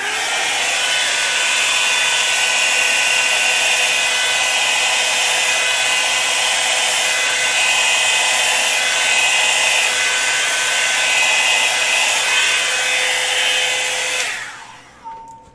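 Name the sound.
blow dryer blowing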